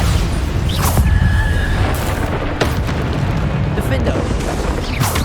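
Bombarda spell explosions in Hogwarts Legacy, loud deep booms and bursts during combat that come several times over five seconds, mixed with shouted spell names and game noise.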